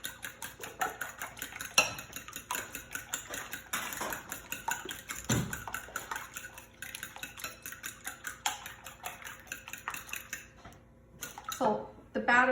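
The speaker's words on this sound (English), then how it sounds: "You can use a whisk, but I think a fork does a better job," A fork beats French toast batter in a bowl, giving a quick, steady run of light metallic clicks and taps against the dish, close up, with a voice speaking faintly at times.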